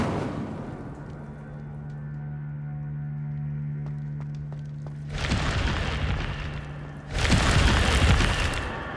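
An Incendio fire spell is cast in the video game Hogwarts Legacy, a loud whooshing, crackling burst of flame that erupts, briefly dips, then flares again even stronger over a low steady hum.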